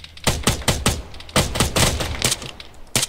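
Gunfire in the ArmA 3 video game rings out in a rapid irregular series of sharp, loud cracks, some bursts closely spaced, with no voices over them.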